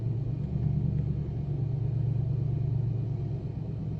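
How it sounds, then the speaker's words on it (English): A truck engine turning over and running with a steady, heavy low rumble at close range, holding even throughout with no voices. "Someone got in a car as a loud car starting. I think it's that whitey truck starting again."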